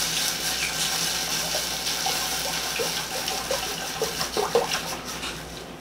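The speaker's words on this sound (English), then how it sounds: "I don't know how much I'm going to put until I start pouring it." Half and half poured from a quart container into a pan for linguine alfredo, a steady liquid gush close by with small splashy pops growing toward the end, no talking.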